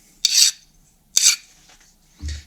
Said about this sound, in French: On peut tester la trempe bien sûr avec une lime.